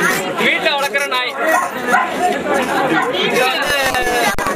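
A Rajapalayam dog barks and yips at a dog show, close and fairly loud amid steady crowd chatter and nearby people talking.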